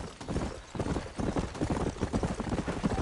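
Horse hooves clip-clop steadily in the Red Dead Redemption video game, a continuous rhythmic trot of fairly close hoofbeats with soft background ambience and no speech.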